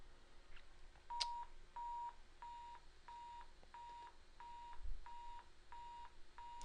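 Steady, evenly spaced electronic beeps repeat about every half second on an outside telephone line after a number is dialed, faint over a quiet hiss, with a brief click near the start.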